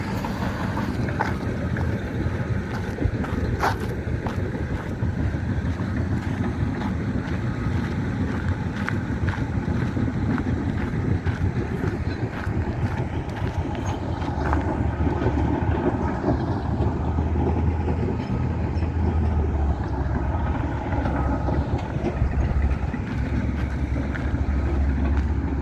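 A tractor runs nearby beside a river walking path, its low engine rumble droning steadily under gusts of wind buffeting the microphone, with no one speaking.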